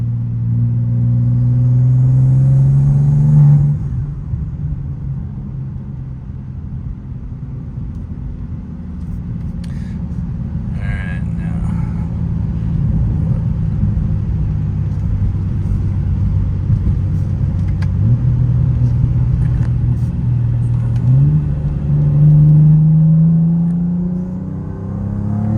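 A 2024 BMW M2 modified to about 750hp, its engine droning and revving steadily up and down in a low, throaty tone, heard from close inside on a hot day with no talking.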